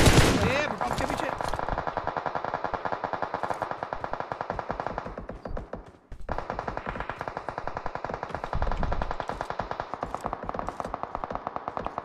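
Rapid automatic gunfire in PUBG, a dense run of loud close bursts with one brief pause midway, with players talking over the shooting.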